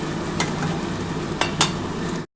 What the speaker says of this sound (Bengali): বন্ধুরা দেখো আমি কিন্তু এবার যে মশলা বেটে রেখেছিলাম সেটা দিয়ে দিচ্ছি।